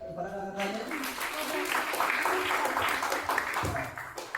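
An audience at a student organization event applauds, dense clapping rising quickly and holding steady at moderate volume, with a speaker's voice briefly heard at the start.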